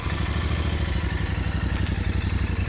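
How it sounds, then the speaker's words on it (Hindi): A Royal Enfield Continental GT 650 twin idles just after starting, a steady, close, loud low-pitched thrum with even pulsing beats and faint mechanical clatter, no voices over it. "तो ये है नॉर्मल साउंड GT का स्टार्ट होके।"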